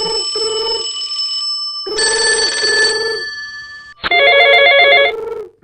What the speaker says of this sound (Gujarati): પેટમાં રીંગ વાગી.